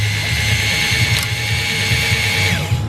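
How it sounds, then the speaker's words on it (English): A drill-driven hone spins inside the cylinders of an SR20DET engine block with forged internals, giving a loud, steady grinding whir with faint rattling pulses, close up throughout. "Alberto's giving the cylinders a very, very light hone with some magnificent tool."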